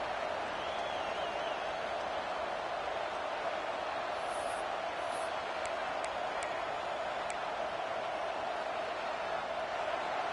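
Stadium crowd noise at a football game against Notre Dame, a steady, distant roar of cheering throughout, with a few faint high whistles near the middle.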